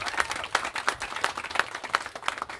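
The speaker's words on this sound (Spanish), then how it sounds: "dale un aplausito ahí" Small neighborhood audience in Barrio Monterrey, Maracaibo claps in a steady, rhythmic burst of a few hands, moderately close and fairly quiet, with no talking over it.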